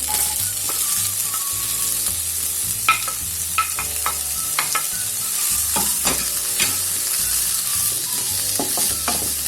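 Chopped onion fries gently in melted butter, a soft continuous sizzle broken by frequent clicks and scrapes of a spoon stirring the pan.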